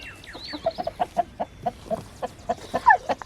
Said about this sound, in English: Oh, there's a chicken in there.